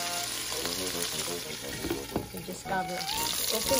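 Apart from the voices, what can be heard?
meat frying in oil in a pan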